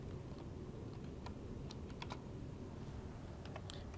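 Typing on a computer keyboard to rename a file in Maya: soft, quick key clicks scattered over a few seconds, faint and close, with no talking.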